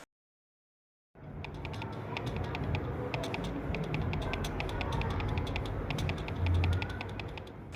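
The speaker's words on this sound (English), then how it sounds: "the side buttons were making a really pingy and annoying noise" Pingy, springy clicks from the side buttons of a Scyrox V8 gaming mouse with a quality-control fault, repeated sharp metallic taps over close mechanical rattling after a silent start.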